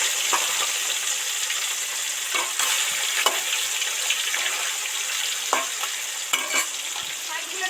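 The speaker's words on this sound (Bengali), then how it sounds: "অন্য মাছগুলো তেলের মধ্যে দিয়ে দেব" Pieces of katla fish deep frying in hot oil give a steady, close, bright sizzle with occasional louder crackles and pops as they are turned, no voices over it.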